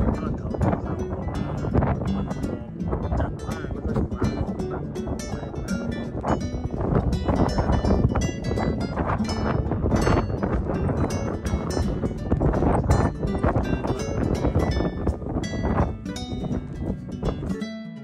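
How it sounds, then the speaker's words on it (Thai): Cold wind blows hard across a snowy Swiss mountain peak in falling snow, a loud, continuous roaring buffet of gusts battering the microphone throughout. "ขณะที่เราอยู่บนนั้นก็หิมะตกแรงมากเลยนะครับเสียงลมที่เย็นก็น่ารำคาญมากเลย"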